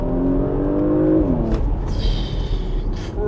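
Porsche Macan GTS SUV accelerating hard in second gear, its engine note climbing steadily before a quick break around a shift, then pulling again with loud whooshing road and exhaust noise close up.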